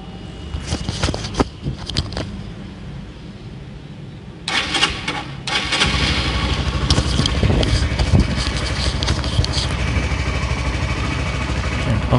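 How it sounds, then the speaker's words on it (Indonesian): A 2015 Honda CBR150R motorcycle engine runs nearby, with a few seconds of lighter mechanical clatter before a louder, steady roar takes over and holds to the end. "Kita tes untuk suara mesinnya."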